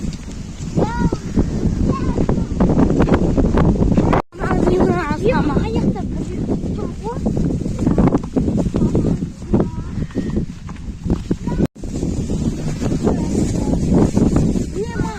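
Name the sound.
wind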